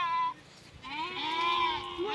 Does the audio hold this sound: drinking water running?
no